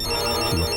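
A phone ringtone for an incoming call plays loudly and close, a bright melodic tone filling the brief moment with no talk over it.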